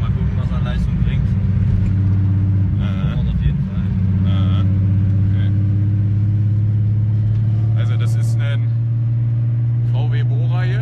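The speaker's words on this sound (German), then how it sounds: "Ich fahre VW Bora, R33 Turbo." A VW Bora with a bored-out R32 engine, now R33, and a BorgWarner EFR 9180 turbo, driving with a loud steady cabin drone of engine rumble, while people talk over it.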